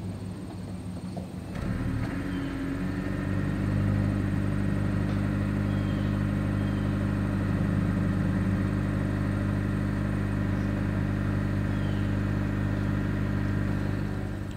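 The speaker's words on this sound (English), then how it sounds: "As always, here is that exhaust clip." A 2021 Honda Insight hybrid's engine starts up and then idles with a steady low exhaust rumble, close by and continuous, with no talking.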